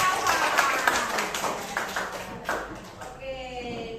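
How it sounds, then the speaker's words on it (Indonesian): A classroom group claps for a student, a short burst of scattered hand claps that fades out, with a voice talking over part of it. "Tepuk tangan dulu buat Mas Nova."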